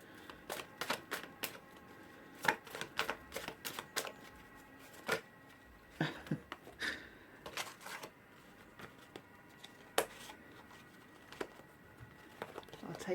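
Tarot cards being shuffled by hand, irregular bursts of crisp, close riffling and tapping at low volume with quiet pauses between them.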